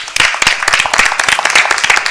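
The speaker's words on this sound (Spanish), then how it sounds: "Un fuerte aplauso para todos ustedes." A studio audience at a Spanish-language television program bursts into dense, loud applause, with many hands clapping rapidly and continuously and a few brief voices mixed in.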